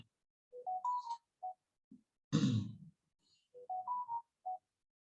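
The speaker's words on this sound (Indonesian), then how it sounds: "Sebentar nih Bapak ada telepon ya." An incoming-call ringtone on a phone plays a short rising-and-falling melodic phrase twice. A loud breathy sigh falls in the quiet gap between the two phrases, and the ringtone is close and clear.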